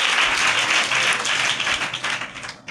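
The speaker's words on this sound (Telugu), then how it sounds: "చప్పట్లు కొట్టి గట్టిగా దేవునికి స్తోత్రం." Church congregation clapping loudly together during a fasting prayer service, a dense burst of many hands that fades slightly toward the end.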